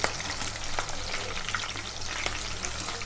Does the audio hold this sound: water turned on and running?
no